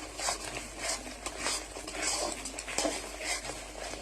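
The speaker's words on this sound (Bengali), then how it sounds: "এবার মশলাটাকে আরও কিছুক্ষণ ধরে কষাতে থাকবো।" Spice masala being stir-fried in a pan for a vegetarian dish, with steady scraping and stirring strokes, faint sizzle and light clinks of utensil against pan, close and alone.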